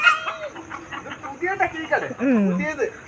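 A chicken on a rope leash clucks in short, wavering calls, mixed in with people talking close by.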